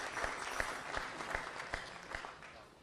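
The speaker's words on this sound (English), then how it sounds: "why don't we give him also a warm round of applause?" A mining luncheon audience gives a short, moderate round of applause, steady clapping at medium distance.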